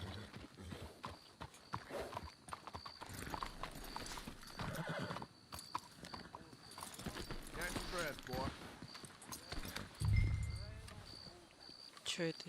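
Horse hooves clip-clop steadily over ground with a whinny in Red Dead Redemption 2, while people talk over the top and other game sounds play in the background.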